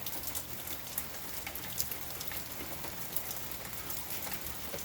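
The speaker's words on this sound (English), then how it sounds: "just a lazy thunderstorm with rain" Steady rain falls during a light thunderstorm, a dense even hiss of drops with a few louder patters on a surface and no thunder, heard at moderate distance.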